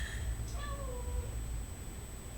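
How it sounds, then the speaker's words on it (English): A pet cat named Reggie gives a single short, drawn-out meow close by in a quiet room, with faint background hum and no talking. "My cat Reggie is here. He would like me to pay attention to him."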